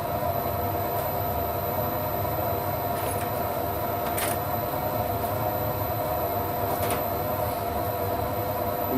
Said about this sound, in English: Doing facing cuts here.